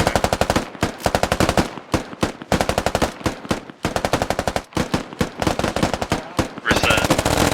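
A squad fires rifles and a machine gun during fire-team training: rapid, loud, sustained bursts of automatic gunfire with brief gaps, close and dominant throughout, with a harsher wash of shots near the end.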